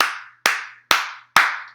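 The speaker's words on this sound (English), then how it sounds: "the bass line non-existent, but it has been replaced with this awful clapping sound" Clapping in a song: four evenly spaced, sharp, loud claps in a steady rhythm, each with a short decaying tail.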